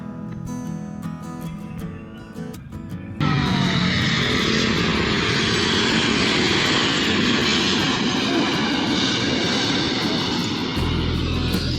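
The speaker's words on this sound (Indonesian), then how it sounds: "melihat aktivitas pesawat yang akan take off maupun landing dari jarak yang sangat dekat" A close aircraft passes an airport spotting area at Cengkareng, Jakarta. Its engine roar rises suddenly and then stays loud and steady, filling the whole scene during a take-off or landing.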